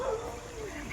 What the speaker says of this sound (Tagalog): Kaya pala maingay yung aso?